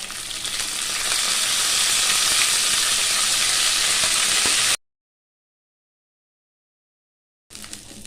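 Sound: curry leaves and urad dal frying in oil

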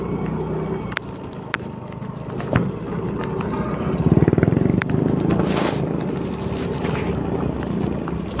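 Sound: motorcycle passing by

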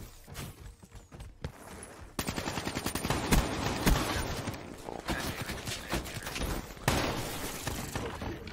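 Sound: gunfire in Call of Duty Black Ops 3 video game

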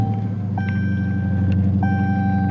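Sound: 2020 Dodge Charger R/T HEMI engine starting and running

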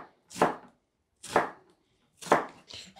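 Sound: finely chopping an onion on a board

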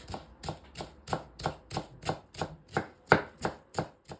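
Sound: finely chopping parsley with a knife

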